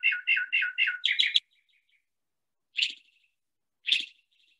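A northern mockingbird sings close and clear: a run of five quick repeated chirpy phrases, a pause, then two more isolated bright calls with silence between.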